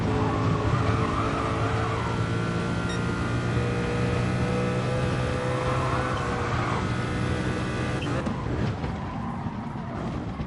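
Race car engine held at a steady high whine in a motor racing video game as the car runs wide into a corner after braking too late, with a loud, continuous tone and tire skid noise throughout, no talking.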